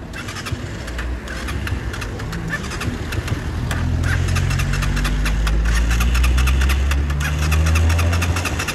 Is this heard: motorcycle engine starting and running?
yes